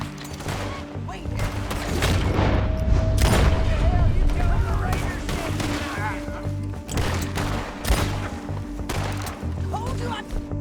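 Gunfire in the Western video game Red Dead Redemption 2 cracks out in scattered loud booming shots amid a busy mix of effects, with characters talking over the action.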